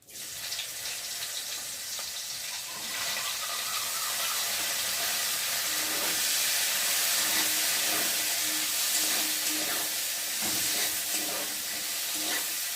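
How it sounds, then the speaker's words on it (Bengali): Cut bitter gourd pieces go into hot oil in a pan and fry with a loud, dense, steady hiss that swells after a few seconds and holds, with faint stirring scrapes under it. "কেটে রাখা উচ্ছেগুলো দিয়ে ভালো করে ভেজে নেব"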